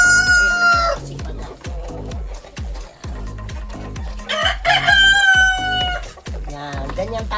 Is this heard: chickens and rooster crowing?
yes